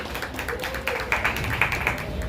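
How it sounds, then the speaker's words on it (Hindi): A launch event audience in Nagpur claps to welcome Dr. Gaurav Dorlikar, producing a moderate, continuous patter of many hands with a few sharper claps standing out. "मैं चाहूंगा डॉक्टर गौरव डोरलीकर के लिए आप जोरदार तालियों से उनका स्वागत करें"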